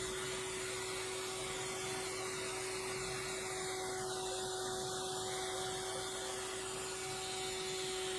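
A valve seat cutter machining the seats of a Nissan L20B cylinder head produces a steady, continuous whir with a constant tonal hum underneath, holding an even level throughout without pauses.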